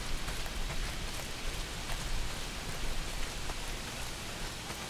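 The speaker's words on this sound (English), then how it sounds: "Well, not if it's pissing down rain." Steady heavy rain pours down in the video game Days Gone, a dense, even hiss of drops spreading across the whole range and holding constant throughout, with no voices.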